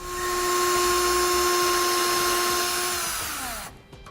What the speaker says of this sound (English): we're going to need to drill both of them on each side